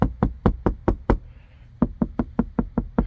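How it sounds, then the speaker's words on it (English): Sharp knocks on a hollow Hummer H2 door panel: a quick run of six, a brief pause, then seven more evenly spaced raps, close and fairly loud. "Now the reason that knock sounds different at the bottom is I'm just assuming because the cavity"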